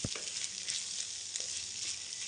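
Veg chow mein sizzling in a hot frying pan as it is stirred and tossed, a steady bright crackle with a few soft scraping knocks, close and alone.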